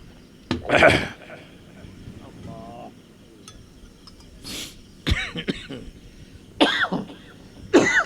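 A man with a bad cold coughs several times in harsh bursts, some followed by throat clearing, between quiet breathing and short stretches of speech.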